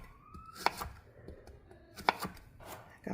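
A knife slicing zucchini into fries on a cutting board, two sharp close chops separated by about a second and a half, with softer board taps in between and a third cut near the end.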